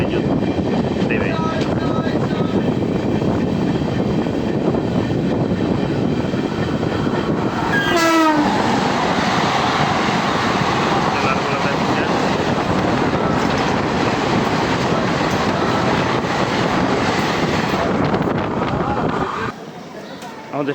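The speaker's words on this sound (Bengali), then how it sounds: "আমাদের ট্রেন এখন প্রবেশ করলো মুর্শিদাবাদ জংশন স্টেশনের 3 নম্বর প্ল্যাটফর্মে" The 13126 Sairang–Kolkata Express pulls into platform 3 at Murshidabad Junction with a loud, steady rumble of rolling wagons. A sweeping horn blast sounds midway, and the noise drops off sharply just before the end.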